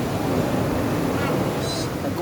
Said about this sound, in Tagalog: Dagko kay balod din, dagko kay balod.